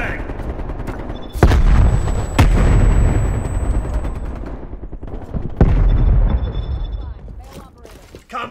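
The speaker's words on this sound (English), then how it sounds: "Heads up, frag!" A frag grenade detonates in Call of Duty Black Ops Cold War with a loud, sharp blast, followed by rumbling gunfire and further heavy bursts in a busy firefight.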